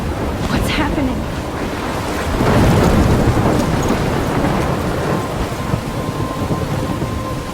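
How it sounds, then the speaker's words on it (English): A thunderstorm rages in the Life is Strange video game, with loud thunder rumbling and swelling over heavy, steady rain and a sharp crack near the start, and a voice speaks faintly beneath it. "I'm trapped in a storm?"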